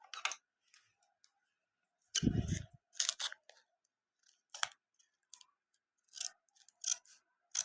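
A Hello Kitty collectible package is opened by hand with scattered crinkles, clicks and plastic rustles. One louder tearing burst comes in the middle, and the sounds are close and fairly quiet with pauses between them.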